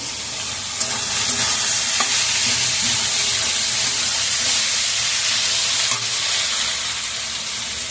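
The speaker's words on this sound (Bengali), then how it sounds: "পেঁয়াজটাকে একটু ভাজা ভাজা করে নিই" Onions fry in oil in a pan with a steady, close sizzle and hiss, broken by occasional stirring scrapes, and no voices over the constant frying.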